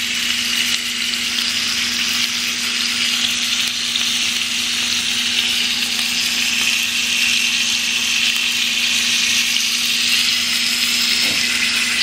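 Chicken pieces frying on a flat tawa give off a steady, loud sizzle that runs unbroken from start to finish, with no voices over it.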